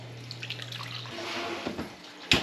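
Water pours steadily into a roast pan for a couple of seconds, a close, continuous splashing stream that ends in a brief louder splash.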